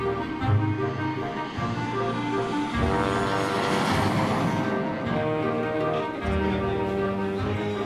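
A passenger aircraft inbound from Manchester drones overhead at an Irish airport, its engine roar swelling to a broad peak mid-clip before easing away, heard amid background noise.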